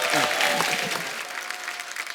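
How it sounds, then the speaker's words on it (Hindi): Dense, sustained applause from the studio audience of The Kapil Sharma Show, a Hindi comedy program, a steady wash of many hands clapping at once that eases slightly near the end. "जोरदार ताली हो जाए"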